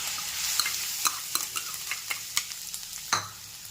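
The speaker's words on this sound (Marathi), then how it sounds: "तो तुपामध्ये आहे तो चांगला परतून घ्यायचा आहे आपल्याला" Freshly grated coconut roasting in ghee in a kadhai over medium heat, a spoon scraping and stirring in a steady run of close, crisp strokes over a soft sizzle.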